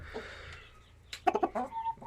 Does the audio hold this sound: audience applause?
no